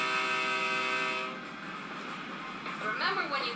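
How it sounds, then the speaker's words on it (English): Passing train with a sustained horn blast that cuts off, followed by rolling rail noise, moderately near and steady. "There's a train."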